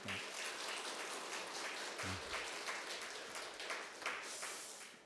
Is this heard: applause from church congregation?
yes